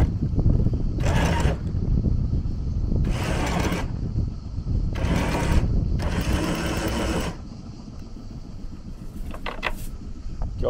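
On a sailing ship, the anchor is let out: several loud bursts of rattling, whirring chain and windlass mechanism over a low engine rumble, with a few lighter clicks near the end.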